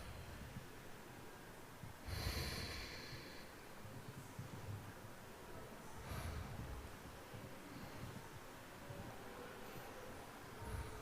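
Slow, deep breaths drawn during a yoga session, with two or three airy inhale-exhale swells close to the microphone over a steady low background hum; no talking.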